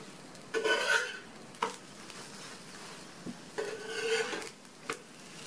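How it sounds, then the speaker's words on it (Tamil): Green gram adai being flipped on a hot pan brings bursts of spatula scraping and metal clatter against a quiet, low sizzle, with short pauses between flips and no talk. "ஒவ்வொரு அடையாக பரட்டி போட்டுக்கலாம்"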